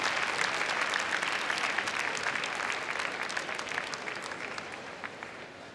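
Sustained audience applause for the Gundog Group winners at Crufts dog show, a dense steady clapping from a large crowd that holds for several seconds before slowly easing, with no talking over it.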